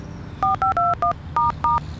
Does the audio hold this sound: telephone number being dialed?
yes